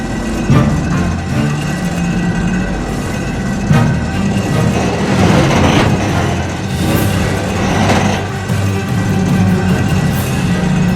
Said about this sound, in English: the crane began to lift the engine off the ground.